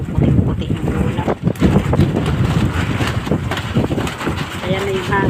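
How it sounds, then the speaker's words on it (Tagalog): Strong outdoor wind blowing on a windy day under a bright sky, a steady loud rush and buffeting across the whole stretch, with a voice talking over it. "Ayan na yung hangin."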